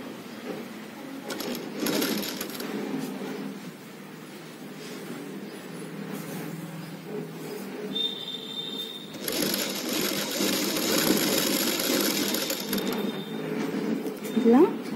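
A sewing machine stitches the side seams of a child's umbrella frock in bursts of close, steady motor whir, with pauses between the runs.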